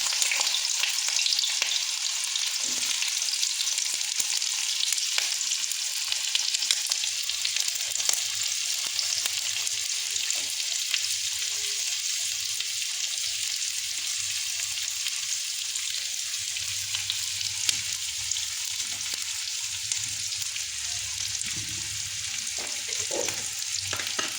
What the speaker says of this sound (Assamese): মই মিঠাতেল গৰম কৰি লৈছোঁ বহুত বেছিও দিয়া নাই এতিয়া ইয়াতে মই পিঁয়াজ আৰু জলকীয়া দি দিম